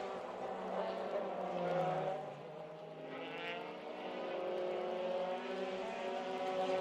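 Formula race car of the EuroFormula Open series at Jerez accelerating near the end of a lap, a steady loud engine drone with shifting pitch, rising and falling slightly across the clip.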